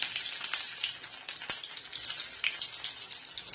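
Chopped garlic frying in hot oil, a steady crackling sizzle with scattered sharp pops and spits, no talking.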